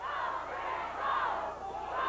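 A crowd at a 1988 Stampede Wrestling battle royal chants loudly and steadily in rhythmic unison for a wrestler, the massed voices rising and falling.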